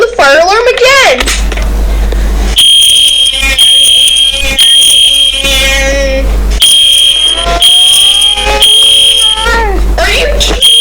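A building fire alarm rings loudly in repeated high electronic bursts, stopping and restarting, with voices speaking over it, including a voice.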